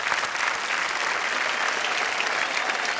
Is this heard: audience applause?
yes